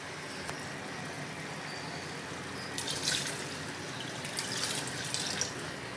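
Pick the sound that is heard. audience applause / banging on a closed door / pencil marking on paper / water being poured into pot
water being poured into pot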